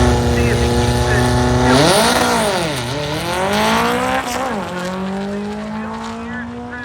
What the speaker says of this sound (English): Second gear on the opposite side of the racetrack, the Ford Mustang.